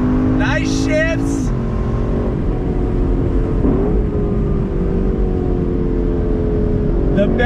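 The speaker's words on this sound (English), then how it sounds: "you have that glorious sound of that V8 engine, naturally aspirated engine" A naturally aspirated V8 engine in a 2021 Lexus LC500 convertible roars loudly and steadily from inside the cabin, with a brief climbing rev near the start and continuous deep rumble throughout.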